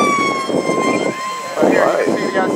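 A radio-controlled FMS F7F Tigercat model airplane, a 1700mm twin-engine warbird, whines steadily overhead at an outdoor flying event, loud and continuous with shifting pitch, while people talk nearby.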